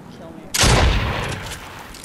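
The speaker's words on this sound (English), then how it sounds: "I found a grenade launcher." Grenade launcher round from a video game explodes on impact: a sudden loud close blast that opens with a sharp crack, then rolls into a broad fading rumble after brief quiet.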